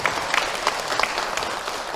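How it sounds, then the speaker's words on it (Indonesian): Steady audience clapping at an Indonesian Islamic religious talk, a dense, even patter of many hands at moderate volume throughout. "tepuk tangan"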